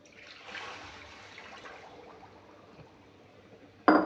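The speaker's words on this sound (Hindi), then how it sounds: "इसलिए मैं अब इसके अंदर पानी डालूँगी।" Water is poured into roasted semolina in a pan, giving a faint, soft trickling wash that peaks early and fades, ending with a sudden louder clatter.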